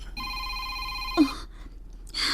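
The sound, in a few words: phone ringing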